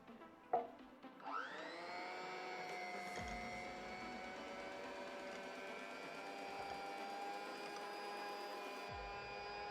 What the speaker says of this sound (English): we have to first whisk the yogurt until it's smooth